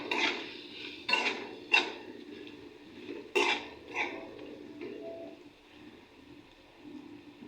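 A spoon stirs sliced potatoes with salt in a pan, giving a handful of soft metallic scrapes and clinks at an uneven pace, fairly quiet and close, with no voices.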